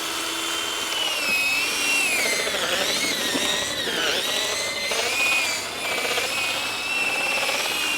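A power mixer churning a fishing bait mix, a loud continuous whirring drone that rises and dips slightly in pitch as it works through the groundbait, with no voices.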